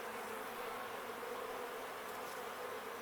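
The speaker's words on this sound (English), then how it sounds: "I just see some worker bees and I see the drones right here" Honey bees, worker bees and drones, hum at an open beehive during an inspection, a steady dense buzzing drone that fills the whole stretch close to the microphone, with no talk.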